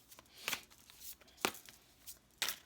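A deck of oracle cards is shuffled by hand at close range, giving quiet, uneven papery riffles and three sharper slapping bursts spread across a few seconds.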